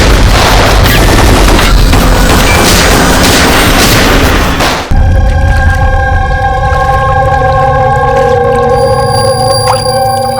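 A burst of loud, rapid gunfire crackles for about five seconds, then cuts to a ringing, tonal drone that lingers to the end.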